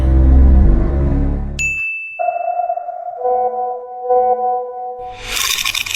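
A phone message notification chimes in a cartoon with a bright ding, then a sustained ringing tone, then a wavering electronic pinging, loud and with no voices.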